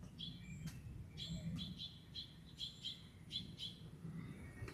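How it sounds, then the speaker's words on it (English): Birds chirping repeatedly in bright, quick bursts over a steady low rumble of background noise, several calls overlapping at moderate distance. "These birds are going wild."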